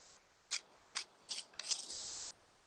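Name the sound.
paper being torn by hand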